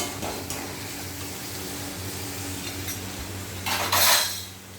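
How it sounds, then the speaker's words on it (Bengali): Mutton masala being stirred and sautéed in a pan over a low gas flame, with a low sizzle, spoon scrapes against the pan and a louder burst of scraping near the end. "এবার নাড়াচাড়া দেবো। গ্যাসের জালটা আস্তে দিয়ে মশলাটাকে কষাতে থাকবো।"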